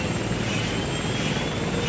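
A helicopter flies away at the end of a rap music video, a steady, loud rotor and engine drone that fills the whole stretch without letup.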